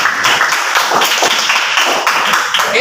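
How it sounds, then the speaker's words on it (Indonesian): Children in a classroom clap their hands together in a lively, uneven burst of applause lasting a few seconds. "Oke, tepuk tangan untuk semuanya."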